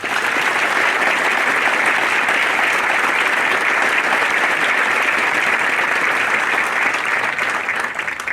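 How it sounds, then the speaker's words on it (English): An audience at an outdoor military cadet graduation gives the band a loud, sustained round of applause, a dense, even wash of many hands clapping that stays steady for several seconds before starting to taper. "please join me in a round of applause for the band."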